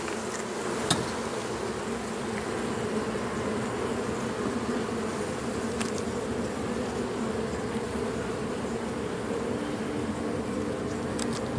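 Honeybee foragers crowd back to the hive late in the day, a continuous, dense, close buzz that holds level throughout, with a few faint clicks.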